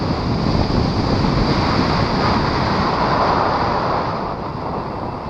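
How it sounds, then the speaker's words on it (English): Steady, loud wind roaring and buffeting the microphone throughout, a constant broadband rush that eases slightly toward the end. "It's pretty windy"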